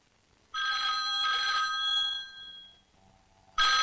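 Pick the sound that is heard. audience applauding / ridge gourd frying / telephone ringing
telephone ringing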